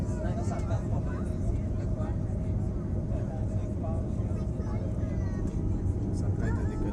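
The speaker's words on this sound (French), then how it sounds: "Ça prête à décoller pour vrai." A passenger plane bound for Cuba idles on the ground before takeoff, its engines holding a steady, rumbling drone close by while people talk quietly in the cabin.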